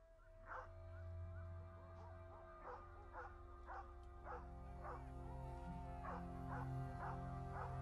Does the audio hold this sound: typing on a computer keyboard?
no